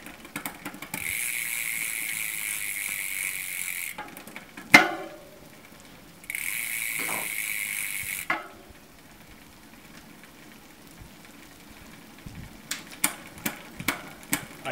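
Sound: Shimano 10-speed derailleur shifting with SRAM 9-speed shifter

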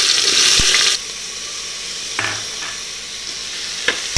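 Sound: chopped onion sizzling in hot coconut oil in pressure cooker

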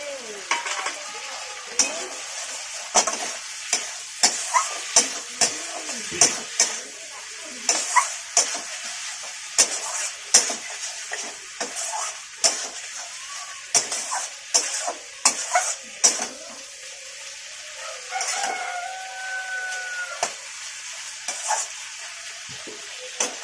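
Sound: eggplant and potato curry frying and being stirred in a pan

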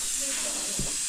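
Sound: pressure cooker hissing steam while cooking rice

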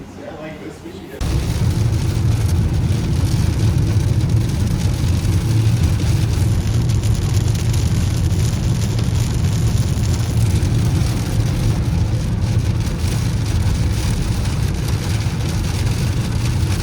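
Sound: heavy rain falling on a car

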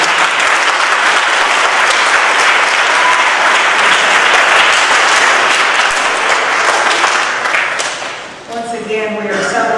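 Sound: audience applause at graduation ceremony

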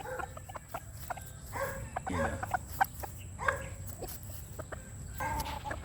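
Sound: chickens clucking, Hennie chickens

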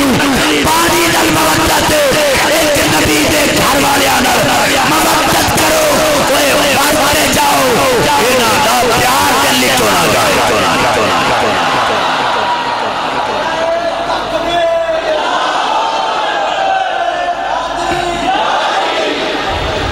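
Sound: crowd chanting religious slogans (Nara-e-Takbeer, Nara-e-Risalat)

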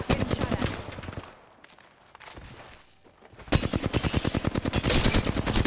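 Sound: gunfire in video game Apex Legends

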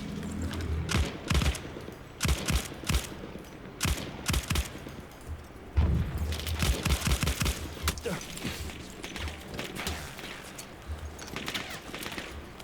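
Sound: gunfire in the video game Battlefield 1

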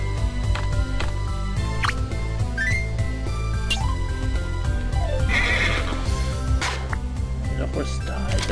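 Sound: horse neighing in the video game Super Scribblenauts

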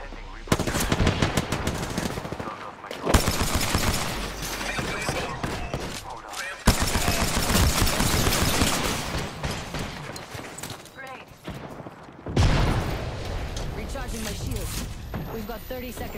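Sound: gunfire in a battle royale video game

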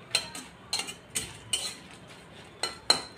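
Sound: dried red chillies being fried and stirred in a pan

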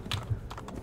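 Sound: horse hooves clip-clopping in video game Assassin's Creed II

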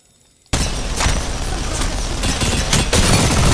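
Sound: minigun firing in video game Apex Legends

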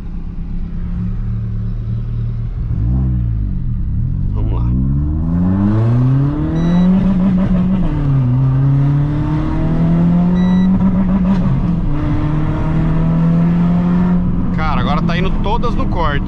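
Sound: Renault Sandero RS engine revving in sport mode, hitting limiter

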